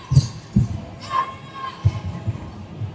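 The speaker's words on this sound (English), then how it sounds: "The crowd's slightly louder on the Canadian side" Crowd cheering and shouting at a dodgeball world championship match, mixed with sharp thuds of balls striking at irregular moments.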